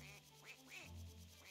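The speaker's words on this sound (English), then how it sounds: "Oh, I hear a duck." A cartoonish duck quacks from the mobile game Rush Royale, several short, bright quacks in quick succession over a low electronic game tone.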